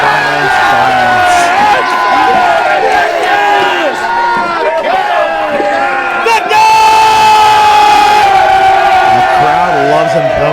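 A lively live professional wrestling event crowd roars and cheers continuously, loud and close, with whoops and shouts rising and falling as a commentator talks over the noise.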